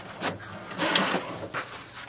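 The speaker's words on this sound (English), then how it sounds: "Here we can see the printer has started to print the page" An HP DeskJet 2732 inkjet printer printing a page, with soft mechanical whirring and a few brief carriage and paper-feed bursts close by, with no talking.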